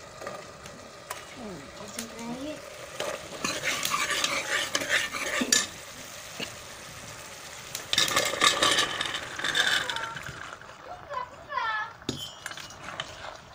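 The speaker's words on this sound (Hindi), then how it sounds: "आलू मटर को अच्छी तरह से मिक्स करना है ताकि इसमें मसाला आलू और मटर में अच्छी तरह से मिल जाए" A spoon stirs potatoes and peas through cooked masala in a pan, the mixture sizzling lightly while utensils scrape and clink against the metal in irregular bursts, close and moderately loud, with a voice talking at points.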